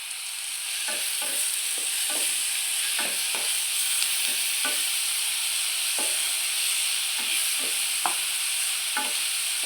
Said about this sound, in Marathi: कांदा एक दोन मिनिट आपण परतून घेणार आहोत कांदा आपल्याला थोडासा परतून घ्यायचा आहे